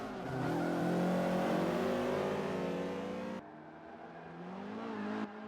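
Touring race cars at Laguna Seca in Forza Motorsport 5, with close, loud engines revving and dropping under braking and then accelerating again, with no voices over them.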